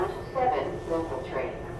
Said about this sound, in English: Welcome aboard the 7 train.